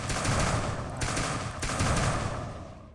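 Rapid automatic gunfire from a shooter game about killing aliens, dense continuous bursts with brief gaps, loud and close, with no talking.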